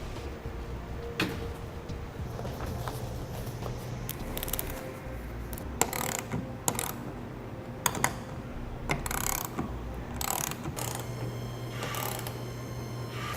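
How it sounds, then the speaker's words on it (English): A TruXedo TruXport soft roll-up tonneau cover being rolled up on a pickup bed and its rear clamps tightened, with soft rustling, ratcheting clicks and several sharp mechanical snaps, close and fairly quiet, no speech. "Now we can roll it back up and tighten the clamps at the rear of the tailgate."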